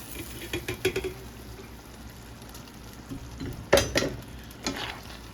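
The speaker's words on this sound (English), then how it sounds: "pour my spaghetti in." Cooked spaghetti is poured into a pot already holding meat sauce, bringing soft wet sizzling and a few sharp scrapes and clatters near the end, fairly quiet and with no one speaking.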